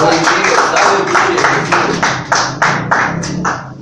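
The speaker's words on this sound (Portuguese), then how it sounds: "Você pode aplaudir a Deus." A church congregation applauding, a run of regular rhythmic claps ringing out close and loud, with talking heard beneath.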